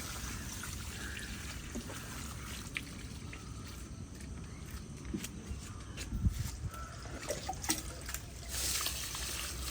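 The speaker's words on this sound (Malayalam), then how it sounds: "അതിലേക്ക് ചുറ്റും ഒഴിച്ചു കൊടുക്കുക" Liquid bio-fertiliser poured from a container around the base of a fruiting plant outdoors, a steady soft splashing and trickling into soil that lasts throughout, with faint background noise and no talk.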